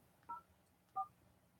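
Two short touch-tone beeps from a telephone keypad being dialed, spaced apart and fairly quiet against a faint background hum.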